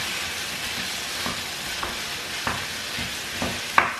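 Meat, with onions, frying in a pan: a continuous sizzle runs throughout, with several sharp stirring or scraping knocks, the last one loudest.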